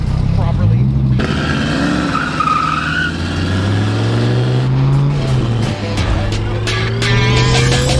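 A car on a test drive, its engine droning and revving with shifting pitch and tires squealing, while people talk over the steady road noise.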